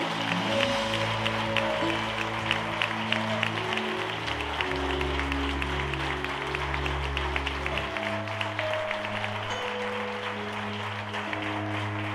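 Sustained applause from a large church congregation at a worship service, clapping steadily over sustained music tones that continue underneath.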